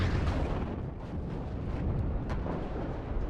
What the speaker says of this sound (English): So artillery's coming in all the way over from the other side of the map